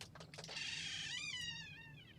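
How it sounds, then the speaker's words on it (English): A cat meows once outside, wanting to be let back in, a drawn-out rising and falling cry heard faintly over a low steady hum. "I hear the cat that wants to get back in."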